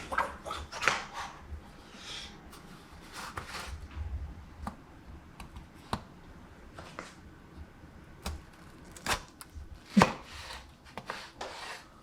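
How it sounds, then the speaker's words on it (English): Tomatoes chopped with a knife on a cutting board for a shakshuka, a series of irregular sharp chops close by, with a dog barking and whimpering in the background. "Cut the tomatoes, I can do that."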